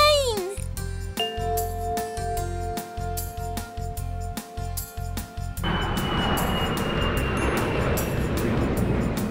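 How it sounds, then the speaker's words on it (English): Music with a voice gives way to a steady, loud roar of a big jet passing overhead. "A big plane!"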